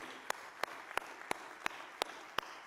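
Seven sharp, evenly spaced claps about a third of a second apart ring out over a quiet room at a church service, sounding more like one or a few people clapping in rhythm than full congregational applause.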